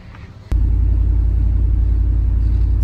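Steady loud rumbling drone from a Dodge Dakota project truck on the road, with a possible sway bar end link rattle, starting abruptly after a sharp knock and continuing without a break.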